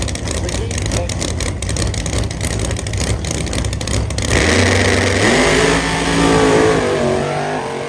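A nitrous-fed Porsche 959 drag car at an imports race in Brisbane, its engine loud and close, first a rough pulsing idle, then a rising rev that climbs and holds in strong harmonic sweeps.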